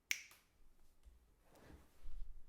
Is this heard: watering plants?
no